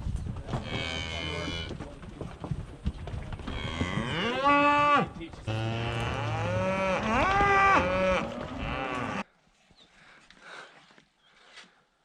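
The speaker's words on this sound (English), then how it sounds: "taking a couple hundred cows up this little narrow trail isn't very ideal" A herd of a couple hundred cattle moo loudly and repeatedly as they climb single file up a narrow mountain trail, with long drawn-out calls overlapping before the sound drops to quiet rustling at the end.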